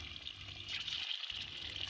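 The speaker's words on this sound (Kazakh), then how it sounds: "Шамамен 100 мг мөлшерінде майымызды құйдық." Cooking oil is poured into a pan to heat for frying chicken wings, making a faint, thin liquid trickle that runs steadily for a couple of seconds.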